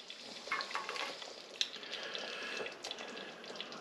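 A spoon stirs pasta in a pot in a home kitchen, giving soft scraping and watery sloshing over a steady sizzle-like background hiss, close and fairly quiet with no talking.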